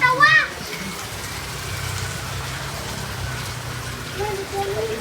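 Steady rain falls outdoors as a broad, even hiss that continues for the whole span, with a brief burst of speech at the start and faint voices near the end.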